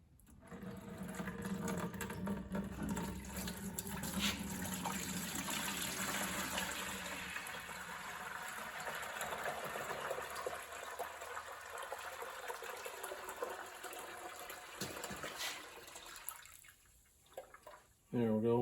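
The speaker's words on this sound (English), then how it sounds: "I'm gonna strain it through that rag" Antifreeze drained from a 1973 Kubota L210 tractor pours through a rag into a bucket, a continuous trickling and splashing flow that tapers off near the end, fairly faint and close by.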